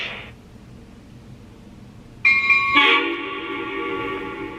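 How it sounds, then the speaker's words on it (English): Lionel Amtrak NPCU cabbage car model train horn sounding in sequence control: after a brief tone and quiet hum, a sustained bright multi-note horn blast comes in and holds steadily to the end. "it's got a completely different horn sound during when you activate sequence control"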